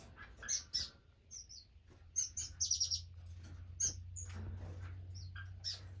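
Finches in an indoor bird room give short, high chirps and tweets in scattered bursts, some quick runs of notes, fairly faint over a low background hum.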